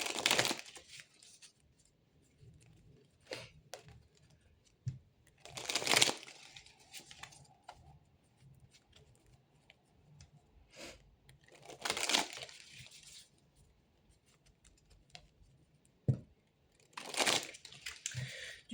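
Tarot cards rustle and crinkle as they are shuffled and drawn from two piles, with irregular papery bursts and louder handling swells every few seconds between quiet gaps.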